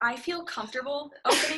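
A single sharp sneeze bursts out right after a person speaking in a hair salon suite, loud and close, ending the stretch of talk.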